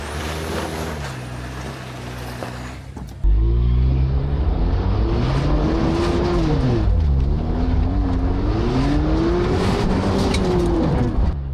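Jeep 4xe crawling an off-road trail in 4-wheel drive, its engine droning loud and close with rising and falling pitch as it works over rough ground, after a brief quieter stretch.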